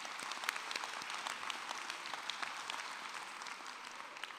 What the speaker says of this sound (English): I think it is fitting we applaud their hard work and dedication.